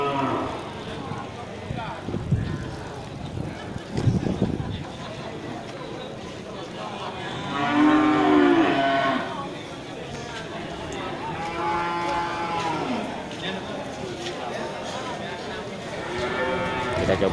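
Cattle low repeatedly at a busy livestock market in Grogol, Indonesia, with long drawn-out moos rising over a steady crowd hubbub and background chatter.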